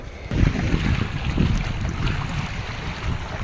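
Strong wind roars and buffets the microphone continuously, with low rumbling gusts and a broad rushing noise, no voices.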